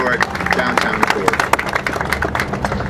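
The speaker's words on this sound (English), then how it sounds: "Let's give him another round of applause" Press conference crowd gives another round of applause for Jose Huizar at the Angels Flight Railway revival event, a steady wash of clapping lasting a few seconds with sharp individual claps throughout.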